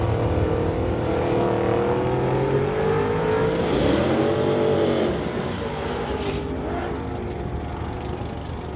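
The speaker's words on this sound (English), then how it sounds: "Rob Monroe Jr. driving the 69 Acadian here. He's staged up" A 1969 Acadian drag race car launches at a drag strip, its engine roaring loudly as it revs and accelerates, then fading slightly as it pulls away down the track.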